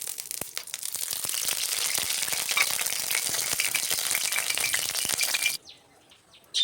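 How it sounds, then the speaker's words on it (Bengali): Cooking oil poured into a hot kadai while preparing a thin fish curry gives a dense, steady crackling sizzle for about five and a half seconds, then drops to near silence. "কড়াইটা বসিয়ে দিয়েছি, গরম হয়ে গেছে। এর মধ্যে আমি এবার তেল ঢেলে দেবো মাপ মতন।"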